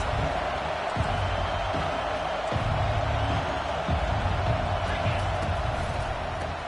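Football stadium crowd cheering and roaring in a broad, sustained wash, with a play-by-play announcer talking over it.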